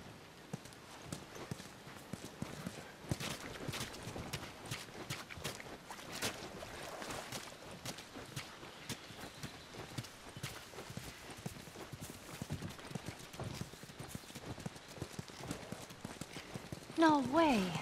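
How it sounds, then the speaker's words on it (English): Horse hooves clip-clop steadily in The Last of Us, a video game, moving at a walking pace under game ambience and voices, with a louder thump near the end. "You guys have horses."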